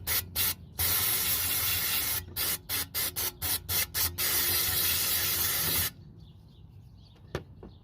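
Cleaner sprayed into the AC evaporator of a 2005 or 2010 Toyota Prius, loud hissing aerosol bursts, several short pulses then a long continuous spray, followed by quiet with a faint tap.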